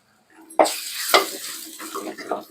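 Turmeric and coriander powder sizzle and crackle in hot oil in a pan while making Chettinad chicken gravy, with two sharp bursts as they hit the oil and a spoon scraping and stirring through the sautéing.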